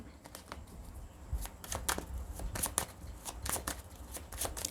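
Tarot cards are shuffled by hand in a quick run of crisp riffling bursts and soft slaps, close and fairly quiet, with no speech over it.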